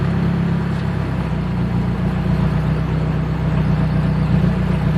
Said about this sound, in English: Car does nothing. So, death of a transmission, just like that.